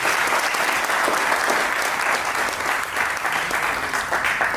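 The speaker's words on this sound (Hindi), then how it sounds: "जोरदार तालियां अपने लिए बजा दीजिए।" Sustained, dense applause from a large audience at a corporate announcement event in Lucknow, steady and loud throughout with no talking over it.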